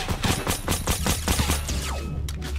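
Rapid gunfire bursts in the video game Fortnite, loud and close, stuttering in quick volleys and ending in a trailing shot.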